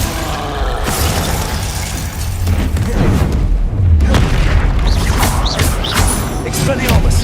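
A Glacius ice spell cast in the video game Hogwarts Legacy gives a dense wash of crackling, booming magic effects and crunchy shattering bursts, loud and continuous with a few brief pings near the end.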